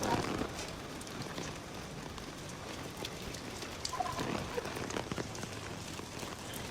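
Steady rain falls in a narrow, crowded slum alley in Dharavi, a dense even hiss with scattered louder drips and faint background activity, no speech.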